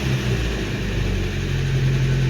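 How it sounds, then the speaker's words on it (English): Car engine with a generic external alternator regulator, held at a steady moderate rev, gives a continuous close rumbling drone. "I guess it takes a little RPM before it starts kicking on the charger"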